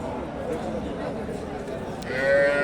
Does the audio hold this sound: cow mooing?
yes